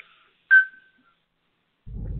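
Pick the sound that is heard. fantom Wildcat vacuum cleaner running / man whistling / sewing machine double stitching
man whistling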